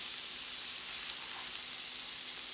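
Lobster tails frying in a pan with leftover shrimp juices, giving a steady, soft, continuous sizzling hiss that stays even throughout with no voices.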